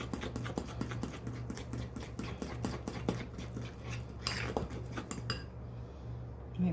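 Homemade noodle dough being mixed with flour in a bowl: quiet, rapid scraping and clinking of a utensil against the bowl in a fast, irregular rhythm over a low steady hum, with no speech.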